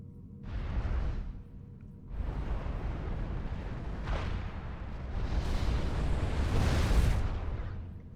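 Artillery shells pound a defensive wall in the Supreme Commander 2 strategy game, with a series of deep, rumbling explosions that swell and overlap, loud and sustained with little pause between blasts.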